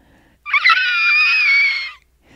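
A woman's single loud, sustained high-pitched scream, lasting about a second and a half, close and alone.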